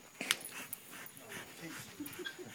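A 15-month-old Belgian Malinois pants and whimpers during bite suit training, quick rhythmic breaths with a sharp yip near the start, fairly close, mixed with faint movement sounds.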